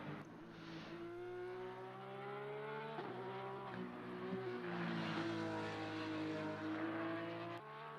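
A Porsche race car engine in the ACC racing game screams at steady high revs through the Spa circuit, pitch dipping slightly at shifts, loud and continuous with no talking over it.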